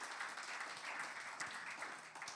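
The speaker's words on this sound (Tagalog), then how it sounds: "Sige po, malakas sa palakpak." Congregation applause at a church worship service, a dense, steady wash of clapping held at moderate level throughout, somewhat distant and diffuse.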